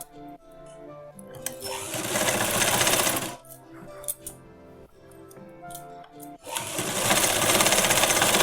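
A sewing machine double-stitches the seams of a sharara pant, running in loud, rapid bursts. Quieter pauses separate the bursts, and light clinks of handling fall between them.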